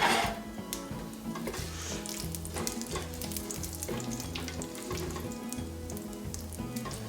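Whole spices fry in hot oil for a mutton dish and are stirred now and then. A loud, steady sizzle runs close throughout, with a soft rhythmic low tune underneath and no talking.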